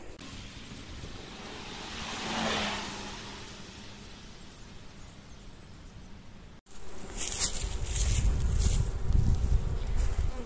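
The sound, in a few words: bees buzzing around a small beehive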